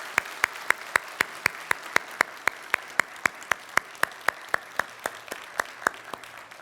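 A church congregation at a Sunday worship service claps in blessing and encouragement for new pastors, in steady, evenly spaced rhythmic beats that continue throughout.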